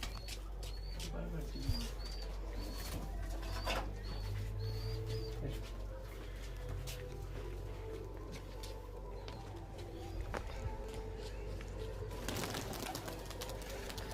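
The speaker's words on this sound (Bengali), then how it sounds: "ওনার সঙ্গে টেডি পায়রা উড়ে গেছে, তোমার টেডি পায়রা 2-3টে টেডি পায়রা উড়ে গেছে।" Teddy pigeons at a loft, a few taking off together: soft cooing and bird calls over constant low background rumble, with a brief burst of wing flapping near the end, moderately distant.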